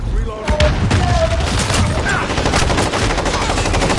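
A stun grenade going off during a first-person shooter match, heard as loud bursts and booms amid rapid gunfire, with a player's voice talking over the game audio.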